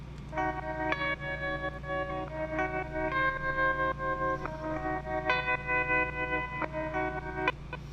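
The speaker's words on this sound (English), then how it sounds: "this spy surf guitar kind of sound playing the classic James Bond descending progression" High surf guitar with a spy-movie twang plays the classic James Bond descending progression, a run of plucked, echoing notes stepping downward over a steady low hum, fairly soft and without voices.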